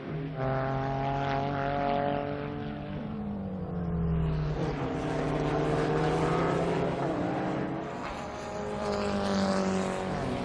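Several BMW race cars circling Assen circuit in a Supercar Challenge race, engines loud and close with rising and falling harmonic whine as they pass and shift, a sustained roar with no talk.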